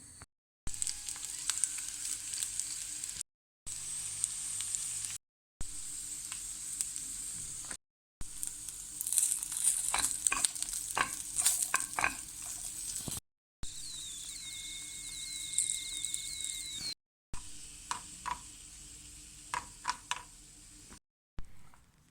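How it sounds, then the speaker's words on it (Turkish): Green peppers fry in olive oil in a pan with a constant crackling sizzle, broken by several short gaps, with occasional utensil clinks and a faint tonal whine partway through. No voices. "Tavaya zeytinyağı koyup biberleri içerisine atıyorum"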